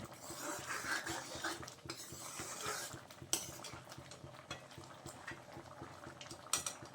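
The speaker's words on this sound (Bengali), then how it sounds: "তো ডালটা খুব ভালোভাবে ফুটে গেছে।" Lentil dal with potato bubbling in a pot, a steady wet simmer with clinking of a spoon against the pot and utensil knocks throughout, close and moderately loud.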